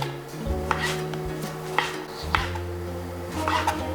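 A knife slices olives into rings on a cutting board, giving a few sharp close taps and knocks against the board in a short, irregular burst with no voices.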